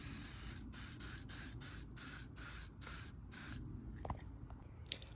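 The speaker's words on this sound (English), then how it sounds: "I'm gonna spray and roll through each gear just like I would with gear oil." Aerosol lubricant sprayed onto the rusty gears of a Shogun bicycle under restoration, several short hissing bursts in a row with brief gaps, close by, followed by a few faint clicks and taps of the drivetrain.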